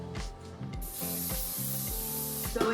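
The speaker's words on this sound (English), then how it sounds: "I'm gonna spray some oil in my bowl" Cooking oil sprays into a bowl in a long, steady hiss at close range, lasting about two seconds over quiet background music, with no one talking.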